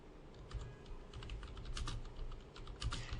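Soft, steady typing on a computer keyboard, a continuous patter of key clicks with a few heavier strokes, fairly quiet and close, without speech.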